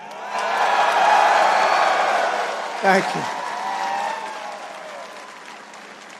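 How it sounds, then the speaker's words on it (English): Applause and cheering from a large crowd of sailors and guests at a Navy 250th anniversary celebration honoring the crew of the USS Kearsarge, a broad sustained roar that swells and slowly fades, with a brief spoken thanks over it. "let's give a big round of applause to the men and women of the majestic"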